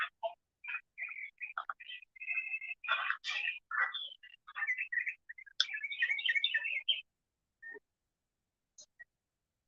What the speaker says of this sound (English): Is that birds or? Yeah, that's birds.